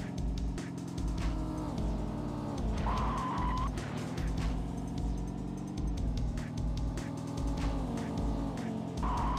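Racing-game car engines from Test Drive 4 on PlayStation roar steadily throughout, with gear-shift pitch changes, tire squeal and passing traffic layered over a constant loud engine drone.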